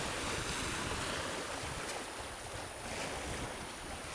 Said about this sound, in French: La mer commence à ourler un petit peu.